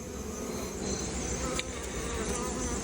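Honey bees hum and buzz steadily at a hive in a shaded yard, a close, continuous drone with no one speaking.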